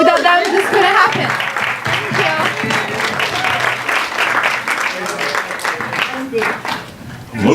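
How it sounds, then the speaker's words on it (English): Crowd at a university talent and fashion show applauds association members, clapping mixed with cheering and overlapping voices, loud and continuous. "And an applause to all my fellow ISA members."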